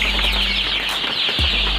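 Rhode Island Red chickens clucking on a farm, a short burst of close, fairly loud hen sounds over a steady low hum, with no talking.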